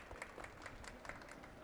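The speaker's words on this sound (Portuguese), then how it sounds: "Salva de palmas." Faint applause from an audience at a COP30 energy panel, a soft, steady patter of many hands clapping heard from a distance.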